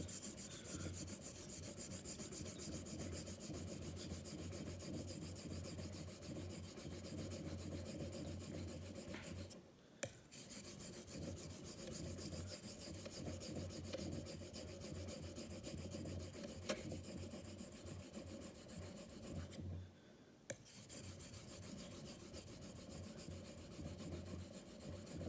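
A German travel razor stroked steadily back and forth on a hone while its bevel is set, giving a continuous, close rasping rub that pauses twice briefly before resuming, with no talking.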